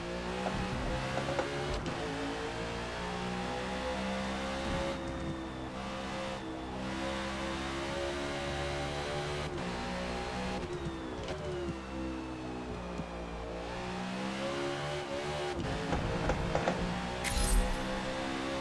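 NASCAR stock car lapping Road America in Forza Motorsport, a loud sustained engine drone with harmonic pitch rising and falling through gear shifts, braking and acceleration, with a brief tire scrub near the end and no talking.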